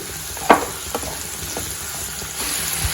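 Peeled, cut bottle gourd pieces sizzle softly in a hot pan while a spoon stirs them, with a sharp scrape near the start and lighter stirring knocks after it.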